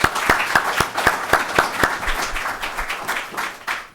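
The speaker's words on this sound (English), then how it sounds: "So we want to thank them, give them a round of applause." Applause at a 2017 candidates forum in Hanson, with a few close, distinct claps over a broader patter of modest audience clapping that carries on for several seconds.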